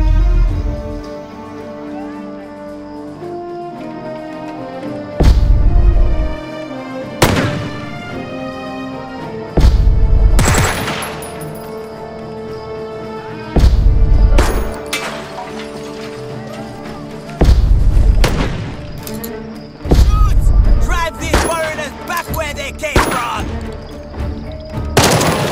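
Gunfire in the Jagged Alliance 3 video game comes as loud, spaced bursts of shots about every few seconds over a steady musical score.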